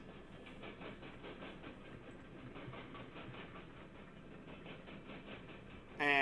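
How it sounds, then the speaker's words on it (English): A freight train of empty potash cars and T-boxes rolls past at a steady pace, giving a continuous mid-distance rumble with rhythmic clickety-clack from the wheels and a sudden loud burst at the very end. "there's our potash cars, some T-boxes"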